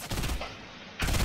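Gunfire in the video game Fortnite, a short loud burst of rapid shots that cuts off briefly and then resumes.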